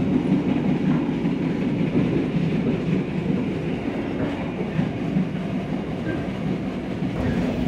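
A Majapahit economy-class train rolls along the rails with a continuous low rumble and rhythmic clatter, heard from inside a carriage.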